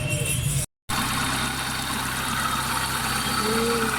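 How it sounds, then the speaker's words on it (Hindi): A Hyundai Santro petrol engine, freshly tappet-adjusted, starts after a brief silence and settles into a smooth, steady idle, a continuous close mechanical hum with no pauses. "अभी गाड़ी स्टार्ट करके चेक करते हैं।"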